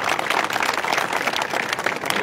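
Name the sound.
crowd applauding at a political rally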